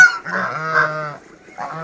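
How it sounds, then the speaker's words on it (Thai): White Chinese geese honking in a farmyard breeding flock, a run of loud, close nasal honks in quick succession, a brief pause, then another honk starting up. "เรามาดูห่านกันนะคะ"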